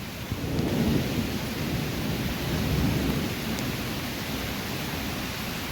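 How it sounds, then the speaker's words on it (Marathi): Heavy rain pours down in a sudden first-of-season downpour in rural Maharashtra, India, a dense continuous roar with gusty wind swelling and easing, close and loud throughout. "भरपूर पाऊस आहे हवा देखील खूप भरपूर आहे"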